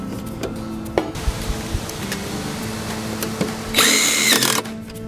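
A power drill whirs in short bursts as it drives screws into the boards of a deep raised garden bed, then ends on one louder, higher-pitched sustained spin.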